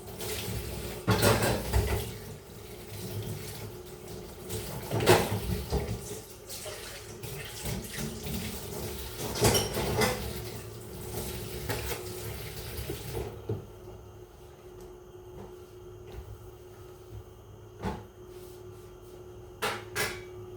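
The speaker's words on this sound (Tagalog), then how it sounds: "Hugas ako guys. Tambak ang ating hugasan." A pile of dishes being washed at a sink with the tap running, water splashing and gushing in surges with occasional clinks, then quieter trickles and drips once the flow is reduced.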